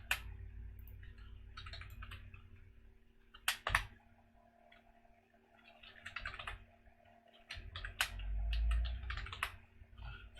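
Fingers tap terminal commands on a computer keyboard in quick irregular bursts of light clicks, separated by short pauses and a couple of louder keystrokes, close and quiet, with no voices.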